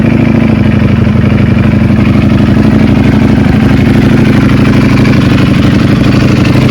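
A BMW S1000RR or Ducati Panigale V4R superbike engine idling at operating temperature, a loud, steady, close mechanical rumble with a fast even pulse and light clatter, running without a break and without any talk.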